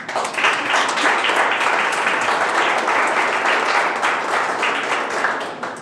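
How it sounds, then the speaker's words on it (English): An audience applauds at an entrepreneurship awards ceremony, a dense, steady wash of clapping from many hands that stays loud and even throughout with no talking over it. "Round of applause."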